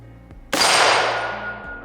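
A Sig Sauer 716 AR-10 rifle fires a single loud, sharp shot at an outdoor target range, and the report rings out and fades slowly.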